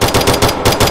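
Rapid automatic gunfire in the FPS video game Zero Hour, a loud, steady burst of closely spaced shots with no pauses.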